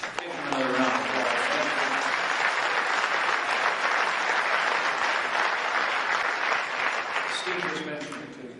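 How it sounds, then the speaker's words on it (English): A crowd at a political rally in Sioux City, Iowa applauds, a loud sustained wash of clapping with a speaker's voice briefly at the start and end. "Give him another round of applause."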